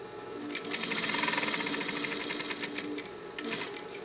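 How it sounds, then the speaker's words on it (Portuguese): A sewing machine stitches a safety seam along the edge of a synthetic-fabric school pencil case, a steady, fairly quiet rapid mechanical whir with rhythmic needle clatter running for about three seconds, then briefly slowing and resuming. "Costurinha de segurança, bem na borda."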